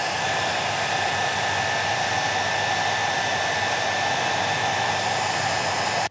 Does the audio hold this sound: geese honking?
no